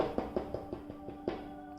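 A series of about eight quick, close knocks on a hard surface, evenly spaced with a brief pause before the last one.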